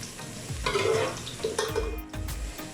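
Crushed garlic fries with browned onions in a pan for keema pulao, giving a soft sizzle broken by several scraping stirs of a spoon, quiet and close with no talking.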